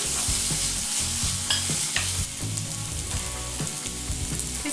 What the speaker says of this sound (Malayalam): ഈ സവാളയൊക്കെ വഴന്നു വന്നിട്ടുണ്ട്.